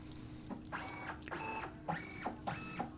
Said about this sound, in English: the negative's in the scanner, so we launch Epson Scan